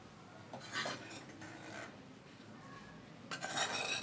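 Pre-fried bitter gourd pieces are tipped into a cooking pan for a masala curry, producing soft scraping and clinking of a utensil against the pan with faint rustling, close and quiet.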